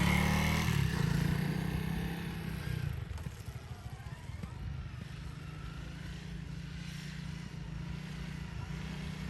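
A Honda CRF300L Rally motorcycle engine drones close by, a steady rumble that dips slightly as it starts pulling away, with no talk over it.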